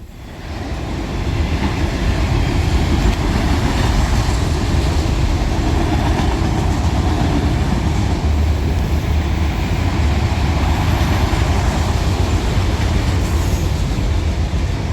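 A freight train with loaded auto racks rumbles past steadily and loudly at close range, a continuous heavy roll of wheels and cars with no voices.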